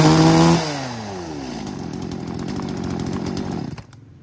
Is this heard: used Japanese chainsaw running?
yes